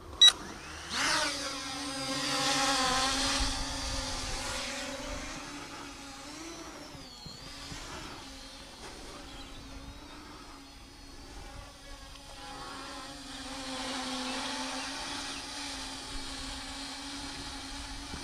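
K15 MAX drone lifting off on automatic takeoff outdoors in breezy late-morning conditions, its motors giving a high, whining buzz that rises and wavers in pitch, steady and fairly close throughout.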